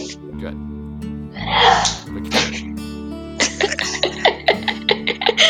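A single sharp, breathy sneeze bursts out near the start amid background chatter, followed by people talking.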